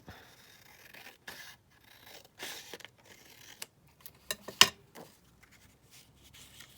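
Scissors snip and scrape through a book page being trimmed for a junk journal, a few quiet cuts and rustles in separate bursts with one sharper snip near the end, close and faint.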